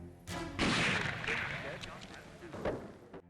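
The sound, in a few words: sniper rifle shot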